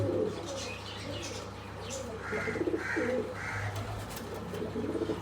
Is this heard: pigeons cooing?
yes